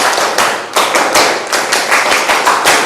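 A class of pupils performs a Pramuka scout clap, sharp, loud, close group claps in a quick rhythmic pattern of distinct beats repeated across a few seconds, with no talking.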